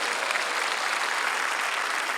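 Church congregation clapping at a prayer rally in a large hall, a steady dense wash of many hands applauding together, loud and continuous throughout with no voices standing out.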